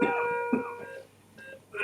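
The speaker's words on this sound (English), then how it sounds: "You can see you're still coughing." A few short harsh coughs in bursts, near and moderately loud, with a brief pause between them and no talking.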